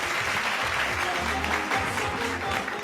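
Steady audience applause in a television studio during a cultural quiz show, fairly even and continuous, with a faint low murmur or music underneath.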